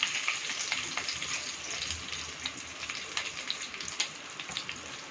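Slit green chillies and curry leaves frying in hot oil for a restaurant-style kadai mushroom curry: a steady, close sizzle with fine crackling pops and occasional sharper spits throughout.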